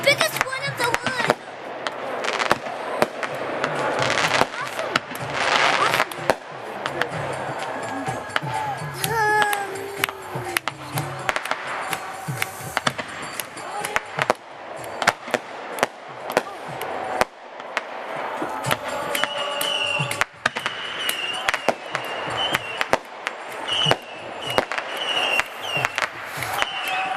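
Fireworks rockets explode at a festival at night, a long run of sharp, loud bangs and crackling bursts at an irregular rhythm, with a whistling rise midway, crowd noise and people talking in between.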